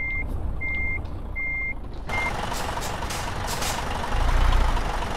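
Reversing beeps from a truck backing a trailer into a parking spot in Euro Truck Simulator 2, three evenly spaced electronic tones over a steady engine rumble, followed by a loud hiss of air and a low rumbling swell.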